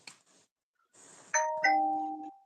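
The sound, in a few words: phone notification chime, doorbell-like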